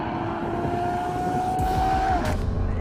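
A Mercedes SLR McLaren pulls hard in third gear during a drag race, a steady, sustained engine drone holding a long, slowly rising pitch under wind and road roar, with a brief higher whoosh near the end.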